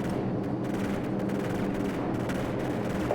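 Cannon and gunfire in the video game Modern Warfare: a dense, continuous barrage of shots and blasts holds steady, loud and near throughout, with a slightly heavier burst at the end.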